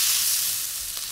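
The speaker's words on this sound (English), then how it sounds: "1/4 portion of sliced onion, about 1 ounce, and stir to combine for about 30 seconds." Sliced onion fries in hot oil and is stirred for beef sate noodles, making a bright, dense sizzle close to the mic. It is loud and steady, with a faint scrape near the end and no voices.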